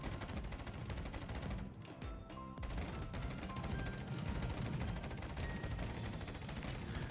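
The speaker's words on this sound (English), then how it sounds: "Anti-aircraft gun crews are on full alert." Dense, continuous anti-aircraft gunfire from a Tier VIII American destroyer, USS Benson, in World of Warships, a loud unbroken fusillade of rapid shots with a brief dip near the middle.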